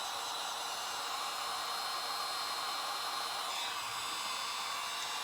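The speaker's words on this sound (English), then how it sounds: "grab your blow dryer, heat gun, whatever, and just heat it up real quick" A blow dryer heats a sticker to loosen it, giving a steady, even rushing whoosh of airflow that stays close and constant throughout, with no voices.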